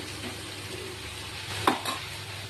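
Water is poured into a vegetable curry cooking in a pan, a constant low sizzle broken by a brief splash and crackle partway through, with no talking.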